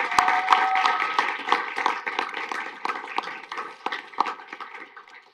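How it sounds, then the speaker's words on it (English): An audience at a school board meeting claps steadily for several seconds in a room, a dense patter of hands that slowly thins and fades toward the end. "Let's give her another round of applause."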